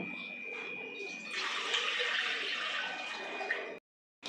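Water pours steadily into a pot for heating, a continuous splashing rush that swells midway, then cuts off abruptly.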